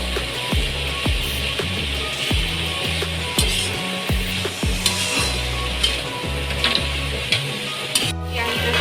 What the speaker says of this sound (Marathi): चांगली फ्राय झाली बघा.